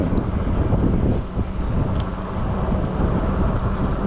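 Strong wind gusts roar against the microphone on an open stretch of forest track, a dense, uneven rumble that dips briefly and then surges again.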